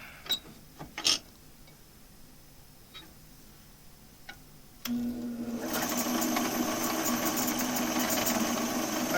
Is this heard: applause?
no